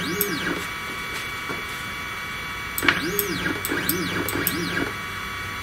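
A 3018 CNC router traverses at 500 mm per minute with a faint electronic whine and sweeping, rising and falling stepper-motor tones. These come in repeated short moves over a steady background hum, with no talk.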